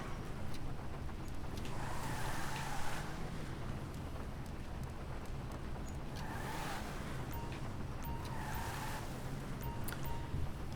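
The LM87 race car driven in a racing game on the Great Ocean Highway time trial, a steady engine drone with wind rush and a few brighter surges, no talking.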